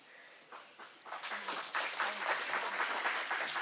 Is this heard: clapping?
yes